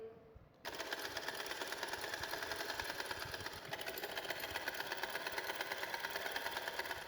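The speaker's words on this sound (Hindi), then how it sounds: "अब हम घेरे की सिलाइयाँ लगा रहे हैं।" A sewing machine runs steadily while stitching the hem of a small girl's frock, a continuous close mechanical whir that starts abruptly after a brief quiet moment and keeps going without pause.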